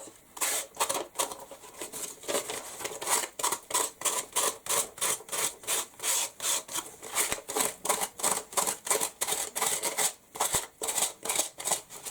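Steady rhythmic rasping of sandpaper rubbed back and forth by hand, close and even, roughly two strokes per second throughout.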